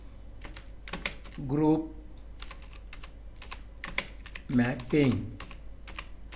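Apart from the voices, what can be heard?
typing on a computer keyboard in Tally Prime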